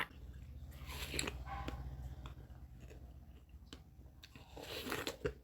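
Biting into and chewing fresh watermelon, close and fairly quiet, with several crisp, juicy crunches and wet squishy chewing sounds spread through the clip, no talking over it.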